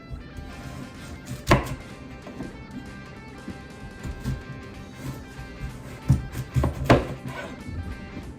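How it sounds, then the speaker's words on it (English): A knife chops through firm sweet potato into slices on a board, a few distinct thunks spaced apart with quieter cutting and handling noises between them. "I am chopping these into about 1/2 inch slices."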